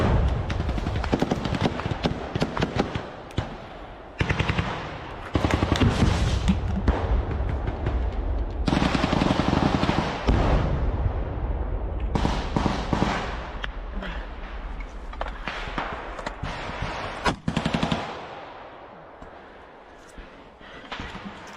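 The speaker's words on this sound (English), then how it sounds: "It starts off loud, firefight." A firefight in Ukrainian combat sounds in bursts of close, loud gunfire, with rapid automatic volleys and single cracks echoing over about twenty seconds, broken by short pauses, with shouted voices mixed in.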